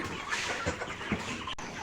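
Chickens on a poultry farm cluck in short, scattered calls at moderate distance over a constant noisy background hum.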